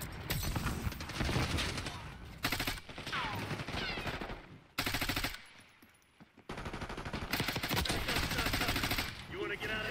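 Rapid automatic gunfire rattles in Call of Duty: Black Ops 6, with bursts broken by short gaps and a brief quiet lull midway, and some talk mixed faintly beneath.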